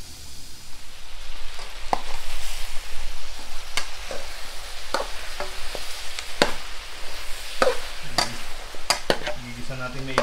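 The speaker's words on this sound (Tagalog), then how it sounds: "Gigisan natin maigi mga pis para ang iga yung karne bago natin sasabawan" Deer meat for kaldereta stew sautés in a pan with a continuous close sizzle, broken by frequent sharp clacks of a utensil stirring and scraping the meat around.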